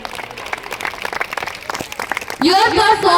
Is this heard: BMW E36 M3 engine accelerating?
no